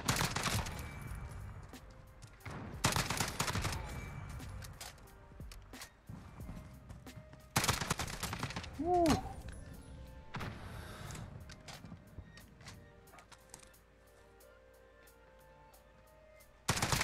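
Gunfire from a weapon in the Modern Warfare shooter game, heard as several loud broadband bursts spread across the stretch with quieter gaps between them, amid in-game background sound.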